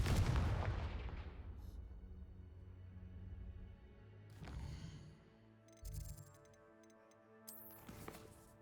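Fiery blast spells from a wizard video game burst out one after another: a loud opening explosion fading into crackling decay, then several sharper blasts and chiming magical effects, with no talking.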